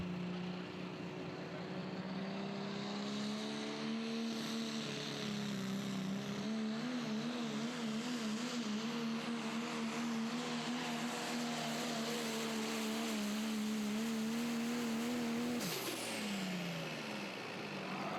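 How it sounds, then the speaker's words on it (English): A Ford pro stock diesel truck at a truck and tractor pulling event, its engine droning loud and steady with rising pitch as it builds boost, then dropping sharply near the end, with no talking. "Matt McVeigh and the Tombstone truck, as he starts to build a little bit of temperature and boost inside of that Ford."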